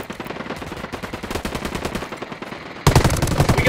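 Rapid automatic gunfire from the video game Ghost Recon Wildlands: dense, continuous bursts of shots that grow louder and harsher near the end, with no talking.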